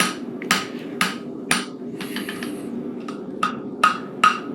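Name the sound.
hammer forging a metal bar for a horse barshoe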